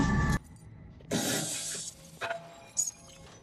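A cheap ring light gets smashed, with a loud burst of shattering glass followed by scattered clinks and tinkling fragments, close and without speech.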